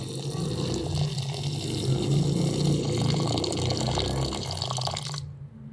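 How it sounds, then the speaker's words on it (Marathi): Water pouring onto a kilo of sugar in a pan to make syrup for sev laddoos, a continuous close splashing, gurgling pour that stops suddenly near the end, with no talking. "पूर्ण साखर बुडेल एवढंच पाणी घ्यायचं"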